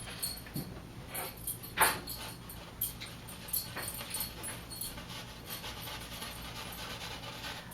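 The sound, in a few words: dogs whimpering in the background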